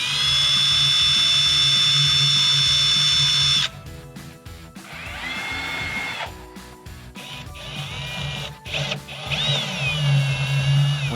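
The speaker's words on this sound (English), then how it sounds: "I'll put the pin in, then mark the holes to pre-drill the wood" A power drill bores pilot holes into the wood of a door frame, its motor whining steadily up close, then dropping off and speeding up again in a few uneven bursts.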